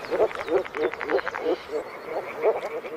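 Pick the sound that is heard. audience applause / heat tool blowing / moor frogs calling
moor frogs calling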